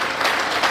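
Audience applause at an awards event honouring a school principal and school for top SEE results in Nawalpur, a steady dense burst of clapping from a hall crowd, brief and fairly loud.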